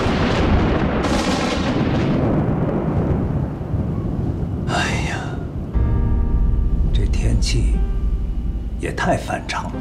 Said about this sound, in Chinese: 大冬天的电闪雷鸣